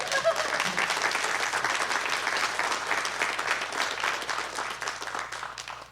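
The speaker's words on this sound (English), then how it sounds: "So you can clap for that" An audience in a church setting applauds, steady dense clapping from many hands that keeps going for several seconds before slowly thinning out, fairly loud and filling the room.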